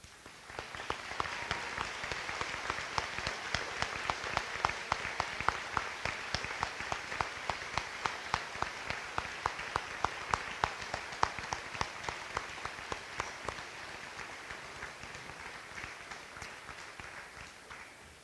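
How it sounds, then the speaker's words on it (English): An audience at a school Veterans Day program applauds veterans and service members for about eighteen seconds, a dense sustained clapping that tapers slightly near the end, with no talking over it. "please stand for one more round of applause"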